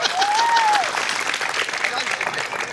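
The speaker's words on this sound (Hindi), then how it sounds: "बस ताली बजाते रहिएगा।" Audience clapping at a Hindi comedy poetry show, a dense sustained burst of applause filling the whole stretch at steady loudness, with a brief whistle-like tone near the start.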